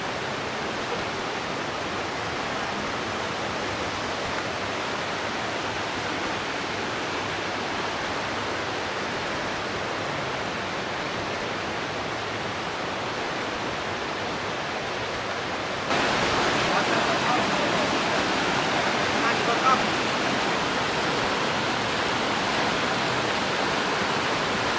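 River water rushes steadily near Madakaripura waterfall, a loud, unbroken broadband roar that grows slightly stronger partway through.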